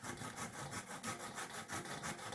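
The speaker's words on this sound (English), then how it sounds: "I'm in the process of grating my cassava" Cassava grated by hand gives a quiet, close, steady rasping scrape, repeated in quick regular strokes of about five per second.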